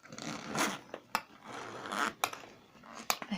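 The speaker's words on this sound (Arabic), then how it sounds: "ودي سوستة صغيرة من قدام" A small front zipper on a handbag being pulled open in a few quick rasping strokes, close and fairly quiet, with short pauses between pulls and no talking.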